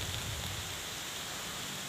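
Rain falls outdoors at Puncak Dago, a steady, dense hiss of drops close to the microphone, loud and unbroken with no talking.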